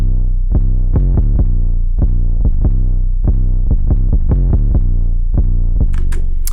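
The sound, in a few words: 808 bass in a beat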